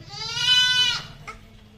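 A goat gives one loud, close, wavering bleat that lasts about a second and is followed by a short faint sound, with a low murmur underneath.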